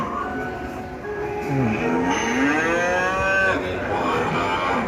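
Cattle mooing outdoors in a temple garden in Nakhon Pathom beside the Tha Chin River, with long, loud, drawn-out lowing calls rising and falling over steady background noise.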